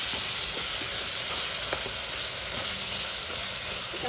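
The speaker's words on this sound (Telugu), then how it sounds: "బొమ్మిడాయలు వేసి బాగా కలిపి" Dried fish being stirred into a brinjal curry in a pan gives a steady, close frying sizzle with faint scraping from the spoon as it goes round, even and continuous with no talk over it.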